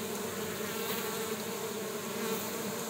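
Bees buzz around a hive entrance as foragers fly in carrying orange pollen, a dense continuous drone from many insects close by, with no voices.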